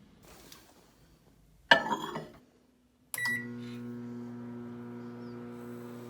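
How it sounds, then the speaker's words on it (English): A microwave oven heating a mug of Oreo and milk: a door clunk and button beep, then a steady, quiet hum of the running oven that continues on its own. "So I'm gonna go and microwave it for a minute and see what happens."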